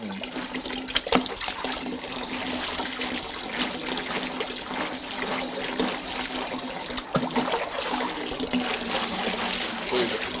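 Organic corn being washed in water while making Belizean tamales: steady trickling and splashing runs throughout at a moderate level, with occasional louder sloshes.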